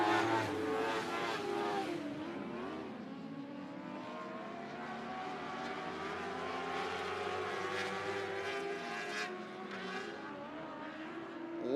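A pack of dwarf cars races around the Sunset Speedway Park oval during Speedweek, their engines roaring together in a continuous, rising-and-falling drone with shifting pitch as they pass close by.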